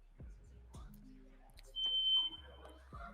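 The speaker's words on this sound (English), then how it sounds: "security beeping in the background is taking a toll on, I think, some people's decision-making matrices" Security alarm beeping in the background at a Pokémon trading card game pro tour event in Portland, a steady high tone under quiet chatter and room noise.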